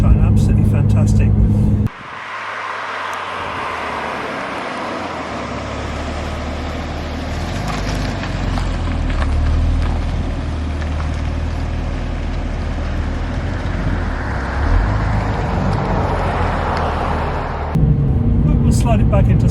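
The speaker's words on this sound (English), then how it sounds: "The engine sound is very different in this car to mine" A Porsche 911 Turbo (996 or 997 generation) heard from inside while driving, a steady low engine drone with road and wind noise, rising slightly in places, with brief talk at the start and end.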